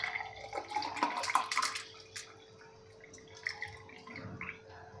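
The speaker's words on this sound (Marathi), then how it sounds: "त्यामध्ये आता आपण गाळून घेणार आहे। बघा, अशा पद्धतीने आपल्याला गाळायचं आहे।" Fennel seed sherbet strained into a glass, a soft trickle and splash of liquid with light drips, louder at first and tapering off, with no talking.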